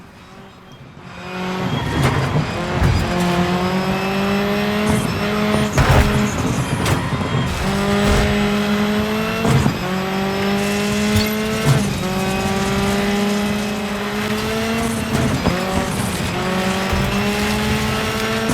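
A rally car in the racing game DiRT 5 revs hard, its engine rising and falling through gear changes while the tires squeal and skid. The sound stays loud and close throughout, with no speech.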